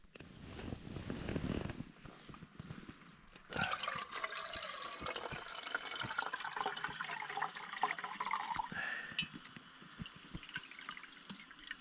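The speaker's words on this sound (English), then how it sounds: "I've got nice warm water out of my hot water bottle. Put it in the kettle" Warm water from a hot water bottle is poured into a kettle at a cold winter wild camp, a rushing, gurgling stream that runs for several seconds after a short rustle, close and fairly quiet, with no talk.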